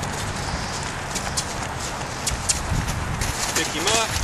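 Friesian gelding cantering on a 12-foot lead rope, hoofbeats thudding in an uneven rhythm under a man's speech, with outdoor noise around.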